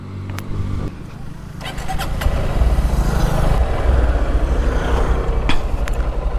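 Honda X-Blade motorcycle ridden with a pillion passenger, its engine running steadily and building as it pulls away, with some wind noise throughout.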